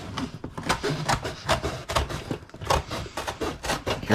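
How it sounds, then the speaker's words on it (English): Close handling of a piece of cardboard while packing license plates for shipping, a continuous run of scraping, rubbing and flexing rustles with uneven bursts. "Hear that sound? That's a good piece of cardboard."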